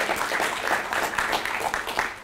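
Moderate applause from an audience at a policy talk on a renationalised NHS, a brief steady patter of clapping without clear voices.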